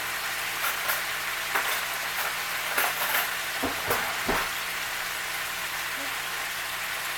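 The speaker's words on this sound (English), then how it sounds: "Right now, we're more or less searing them." Chicken pieces searing in a hot pan for honey and stone ground mustard sauteed chicken, giving a steady broadband sizzle with a few sharper pops and utensil scrapes near the middle, close and moderately loud.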